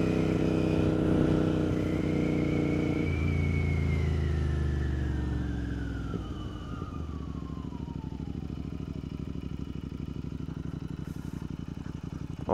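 A Royal Enfield Continental GT 650 with a Watsonian sidecar rides along, its engine note rising and then falling through gear changes before settling into a steady rumbling cruise.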